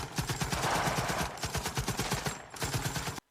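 Rapid gunfire from an enemy sniper and a Marine squad in a Vietnam War film: dense, continuous bursts of automatic shots with overlapping cracks, loud and sustained for about three seconds before cutting off abruptly.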